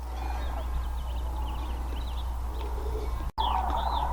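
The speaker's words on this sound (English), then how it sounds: "There's about 75 sandhill cranes up there floating on the heat raising off the surface of the earth." A large flock of sandhill cranes circling high overhead on rising heat, their bugling calls faint and distant, rolling steadily through a soft background hiss, with a brief dropout near the end.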